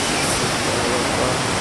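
Ouzoud waterfalls in Morocco, a steady broadband roar of rushing, falling water that fills the whole moment, loud and continuous with no pauses.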